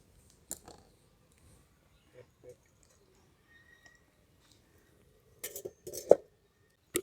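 A metal karai (wok) is set down on a lit earthen stove: a few scattered clanks and scrapes, then a cluster of louder metallic knocks near the end, with a quiet room between them.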